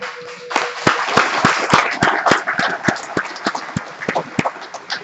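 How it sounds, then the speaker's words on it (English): A crowd gives another round of applause for the EMTs who cared for and transported a patient to the hospital. The claps are sharp, loud and steady, with a strong, regular rhythm and little talk over them. "let's give them another round of applause"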